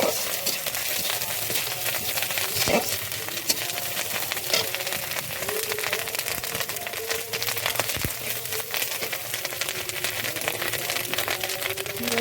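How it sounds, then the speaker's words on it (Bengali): Chopped onion and green chilli fry in a pan, giving a continuous crackling sizzle with scattered pops and the odd stirring scrape, steady and close with no voices over it. "কুচানো পেঁয়াজ, কাঁচা লঙ্কা দিয়ে একটু লাল লাল করে ভেজে নেবো"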